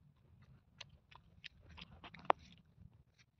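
Freshly picked peanuts are chewed up close, a quiet, irregular run of crunches and bites with one sharp loud crack midway, with no talking.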